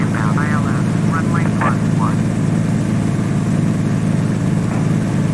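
A steady, loud airplane engine drone in a flight video game, with a constant low hum filling the whole stretch while a voice chirps briefly near the start.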